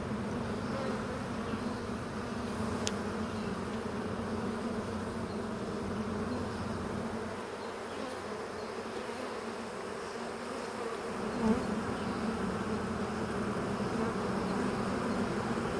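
A swarm of honey bees buzzes steadily being hand-scooped into a box, a dense droning hum close by that dips slightly midway then swells back, with no talk.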